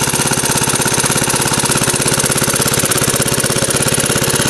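A small engine on a Wells 6 volt power charger, freshly rebuilt with new valves and still burning off assembly oil, runs at a fast, steady idle. Its rapid even firing pulses stay loud and close throughout.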